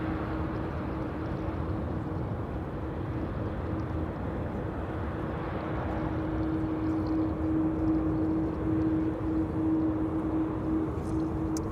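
An airliner arriving at Amsterdam Schiphol from London Gatwick: a steady, moderately loud jet drone with a sustained tonal hum running throughout, no voices.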